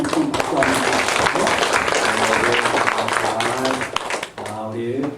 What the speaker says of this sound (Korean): 우리 한번 축하하는 의미에서 우리 한번 큰 박수 한번